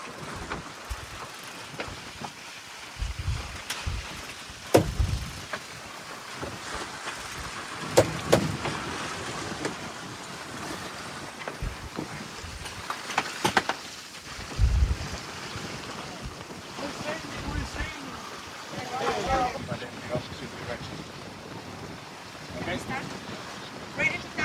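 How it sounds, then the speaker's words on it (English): A sailboat heeling under sail among the San Juan Islands, with steady wind buffeting the microphone, rushing water and waves along the hull, and intermittent knocks; people talk at times over it. "We're sailing. Got a nice heel over here."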